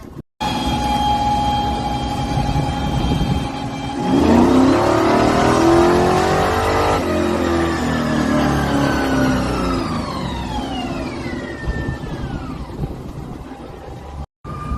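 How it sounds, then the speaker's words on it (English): Small-block engine in a Plymouth Cuda, built by its owner, revving hard on a dyno at an outdoor hot rod event; it climbs through a long sustained pull to a loud peak, then winds down with falling pitch, with no talking. "going to put his CUDA on the dyno after doing a whole bunch of upgrades recently"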